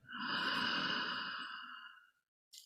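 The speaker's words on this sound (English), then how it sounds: "Breathing in," A slow, deep inhalation during a relaxation exercise, an airy, close rush of breath lasting about two seconds before fading to quiet.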